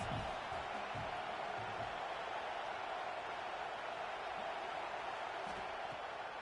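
A stadium crowd at a college football game between LSU and Michigan roars steadily on a big third down, a dense wash of distant cheering with no pauses.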